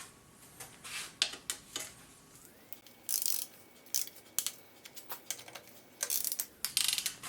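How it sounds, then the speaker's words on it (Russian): A tool works the oil pan bolts on a 1.8 TSI engine during a rebuild, giving quiet bursts of quick clicking ratchet strokes with short pauses between them and no talking. "Потом идет протяжка"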